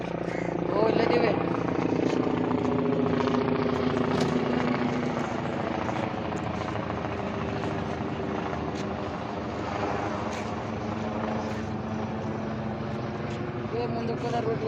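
A helicopter runs at a helipad near a hostel, its steady loud rotor and engine drone filling the whole stretch without letup, with people talking faintly underneath.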